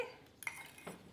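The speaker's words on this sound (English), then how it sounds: "Then give your slaw a good mix" Spoon clinking and scraping in a bowl as jackfruit slider slaw is tossed together, a few light close taps in a quiet kitchen.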